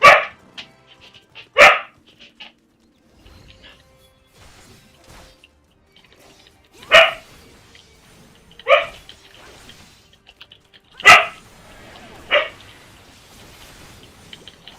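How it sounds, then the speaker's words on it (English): A small brown female dog barks near and loud in a room, about six sharp, separate barks spaced irregularly across the stretch, with quiet gaps between them. "She likes to bark."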